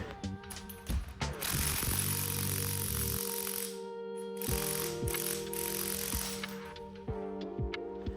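Impact gun hammering on a strut nut during a lift kit install on a Toyota Prado, Hilux Surf or 4Runner, a loud rattling ratchet-like burst of blows with metallic ringing clanks, moderately close.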